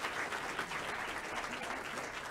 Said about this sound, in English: could we please honor her with a round of applause